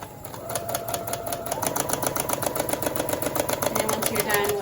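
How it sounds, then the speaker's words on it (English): A sewing machine stitches a straight line on fabric, its rapid, even needle clatter running continuously and close, with a faint motor hum underneath. "you'll back stitch and a little bit, and then you'll start just going forward and stitching your line"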